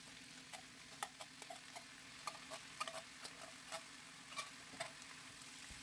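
Chicken with chayote, corn kernels and green peas gets stirred in a pan, soft scraping taps and light clicks landing irregularly over a quiet, steady sizzle.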